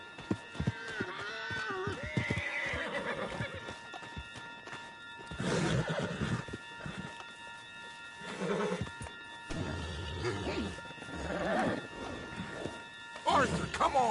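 Horse whinnies and hoof clip-clops in the Red Dead Redemption 2 video game, heard in bursts mixed with game voices and music.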